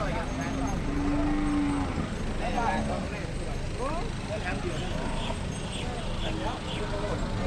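Cattle moo repeatedly at a busy open-air cow and buffalo market in Roi Et, Thailand, with steady crowd chatter and people talking throughout.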